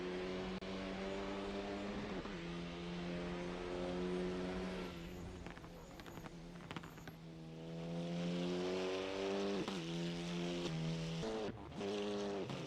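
Race cars on a practice out lap at Killarney International Raceway, engines droning steadily with rising and falling revs and a few shifts, the sound loud and continuous throughout with no voices over it.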